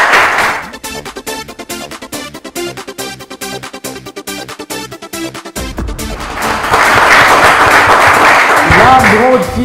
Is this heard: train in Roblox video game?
no